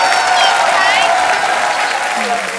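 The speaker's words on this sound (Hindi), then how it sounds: "और श्रद्धा कपूर और अर्जुन कपूर के लिए जोरदार तालियां" Loud, sustained applause from a live studio audience on a comedy talk show, dense and continuous clapping, with voices heard over the clapping.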